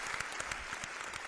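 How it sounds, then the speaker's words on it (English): Audience applause for Miss Jones at a podcast taping, a steady dense wash of many hands clapping together, moderately loud and continuous with no talk over it. "Round of applause one time for Miss Jones, man"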